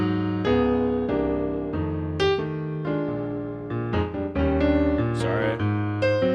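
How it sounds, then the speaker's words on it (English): Piano played in stride style, with a bouncing left hand alternating low bass notes and mid chords under right-hand melody, loud and continuous with no talking. "If I decide to play this at more of a stride type of thing"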